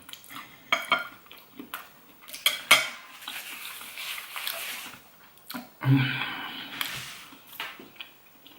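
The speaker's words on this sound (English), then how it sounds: "chop up the spring onion, or shallots as some people like to call it, and then mix it in" Chopped spring onion being mixed into barbecue food, with clattering utensils scraping and clinking against a dish in irregular bursts, a few louder knocks and a brief soft sizzle between quieter moments.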